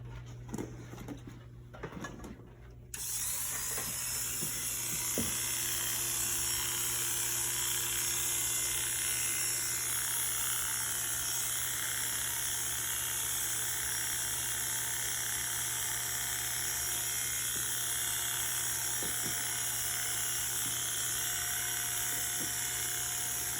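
Electric clippers shaving a dog's fur for a canine Holter monitor, a steady close buzzing whine that starts after a few seconds of quieter handling and runs on continuously, with faint clicks beneath.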